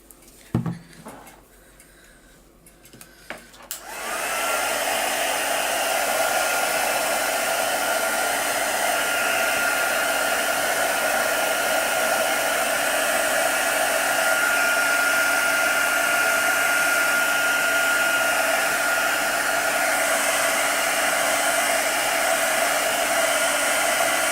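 A hair dryer blows on bronze patina paste spread over a mirror. After a few seconds of quiet handling, a steady, loud, close whoosh starts and runs unbroken to the end.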